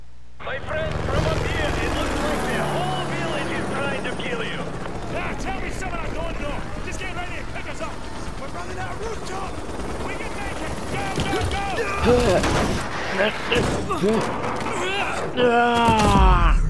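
A helicopter drones steadily in Call of Duty Modern Warfare 2 Remastered, its rotor noise running under scattered gunfire and loud shouting voices.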